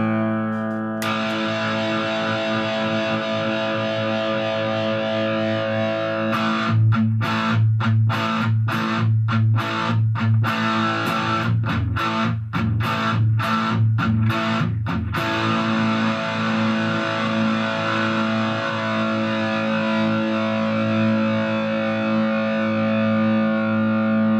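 An electric guitar through a RAT distortion pedal sustains thick, gritty chords, with a stretch of choppy rhythmic strumming in the middle before ringing out again.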